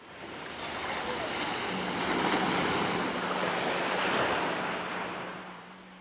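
Sea waves at Kleopatra beach in Alanya, a continuous wash of surf swelling and receding, with a faint steady low hum beneath and no voices.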